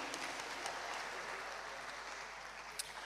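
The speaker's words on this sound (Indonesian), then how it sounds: "Tepuk tangan untuk Bu Sri Sumarni." Steady applause from a crowd fills the whole stretch, an even wash of clapping with no voices over it.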